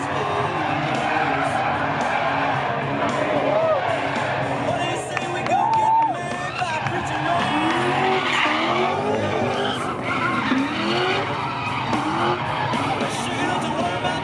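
Drift cars, including a Mustang, skid through a drift event at Freedom Factory with continuous tire screech and engine roar, a crowd murmuring and voices talking throughout.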